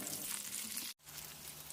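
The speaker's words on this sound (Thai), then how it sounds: "เติมน้ำมันพืชและทอดเต้าหู้ต่อครับ" Steady, dense sizzling of tofu frying in hot vegetable oil, continuous and close, with a brief silent cut in the middle.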